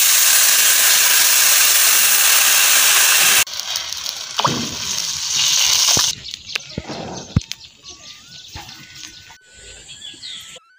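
Water from a tap gushes loudly and steadily into a pan, close to the microphone, then cuts off, leaving a few clatters and faint kitchen sounds.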